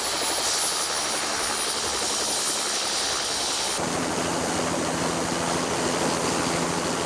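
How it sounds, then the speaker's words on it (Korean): A Russian Ka-32 helicopter used for spraying chestnut orchards, repeatedly landing and taking off for chemical resupply, roars with a loud, steady, close-up rotor and engine drone that shifts in tone midway, with no voices. "한 번 이륙한 헬기는 15분마다 이착륙을 반복하며 약재 공급을 받는다"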